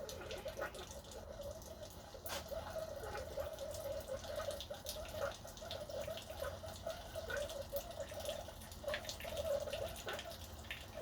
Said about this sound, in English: now it's going to pour the water from the reservoir into the machine